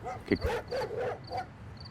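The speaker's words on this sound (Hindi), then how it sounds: "कुत्ता कहीं भौंक रहा है" A dog barks a few short, yipping times at moderate distance, faint and spaced out, with no one speaking over it.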